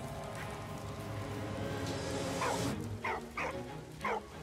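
Dog in the World War I game Valiant Hearts, a few short yips and barks near the end over a low background music bed.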